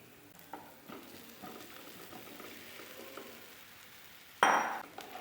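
Pieces of a green gram dish sizzling in a pan with onions and being stirred gently, a soft steady frying hiss with light scraping, ending in a sharp louder clatter near the end.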